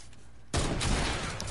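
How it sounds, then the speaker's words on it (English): A sniper rifle in a video game fires one sudden loud shot that hits hard and rings out in a sustained booming tail, after a quiet moment with no talk. "my sniper shot missed"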